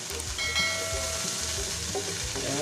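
Lucban longganisa sizzles in a pan while being stirred, a steady close crackle with faint scraping and no voices.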